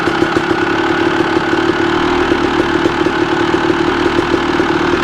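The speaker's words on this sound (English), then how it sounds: "Oh, God, I love a two-stroke." A 1998 Honda CR250 two-stroke motorcycle engine runs steadily nearby, a continuous buzzing drone with a rough, crackly edge and no voices over it.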